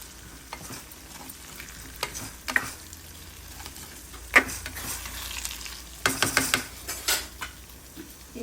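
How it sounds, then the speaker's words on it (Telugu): Eggplant pieces stir-fried with coarsely pounded chili powder for a spicy eggplant curry: a steady close sizzle broken by scraping stirs and clinks of a spoon against the pan, louder rattling bursts near the end, no voices. "ఈ కారాన్ని మొత్తాన్ని ఇలా ఈ వంకాయ ముక్కలకు పట్టేలా ఇందులో చల్లుకోవాలి."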